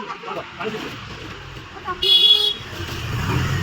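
A motor vehicle approaches on a road in Odisha, rumbling steadily, then gives one short horn toot midway. People talk nearby throughout.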